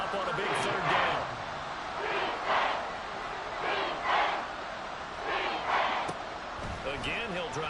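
In a football video game, a stadium crowd roars in rising and falling waves ahead of a big third down, loud and reverberant, with faint announcer voices in the mix.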